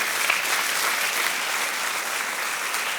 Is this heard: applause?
yes